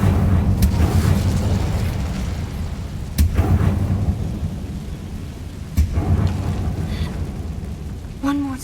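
An Incendio fire spell is cast in Hogwarts Legacy, the wizarding-world game, producing a sustained roaring, crackling rumble with sharp bursts around three and six seconds, loud and close, ending in a brief tonal chime.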